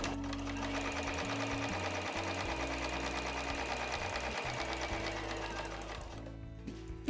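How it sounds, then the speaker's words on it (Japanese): A sewing machine stitches cotton fabric scraps for a small house-shaped key case, running steadily and close up with a fast rhythmic mechanical clatter that winds down near the end. "そしたら少しねくっついたり離れたり揺らぎながら縫っていきます。"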